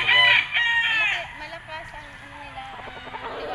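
Bull stag gamefowl rooster at a Philippine gamefarm crowing loudly and close in one drawn-out call, followed by softer clucks and another bird, with someone speaking faintly underneath.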